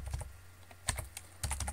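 Short bursts of close keyboard typing as a terminal command is entered on Ubuntu, a few quick clusters of key clicks separated by brief pauses, with no talk.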